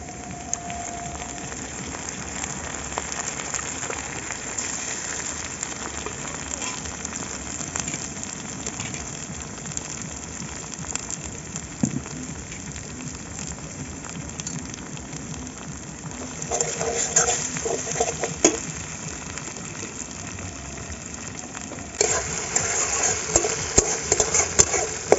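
Ground spice pastes of cumin, ginger, garlic and green and dry chilli frying with onions in a pan for chicken curry, a steady soft sizzle and crackle that swells louder near the end, with stirring.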